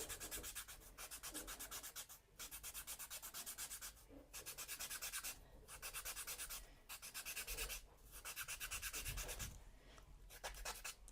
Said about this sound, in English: I'm going to clean one of my blending stumps with the sandpaper.